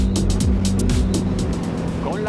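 A Cranchi A32 motorboat with twin petrol 350-horsepower Volvo Penta V8 engines running at full throttle, a loud steady engine roar with water rush and wind buffeting, under a voice speaking.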